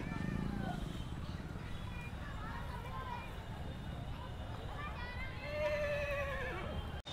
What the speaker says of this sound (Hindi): इस तरफ काफ़ी तरह तरह के घोड़े हैं